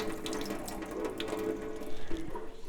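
Water pours out of a can into a sink and splashes during rinsing, a faint, continuous trickle with small clinks of the metal can.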